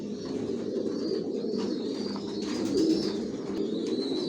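Pigeons coo steadily in a loft holding newly adult racing pigeons, a low continuous murmur of many birds close by, with occasional faint higher chirps above the dense cooing.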